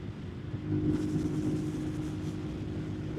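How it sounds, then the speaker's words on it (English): Strong wind roaring steadily while riding a KP Mini 150 RS EFI mini motorcycle in fifth gear at about 62 mph, a constant low rumble and buffeting close to the rider with no talk. "there was a lot of wind"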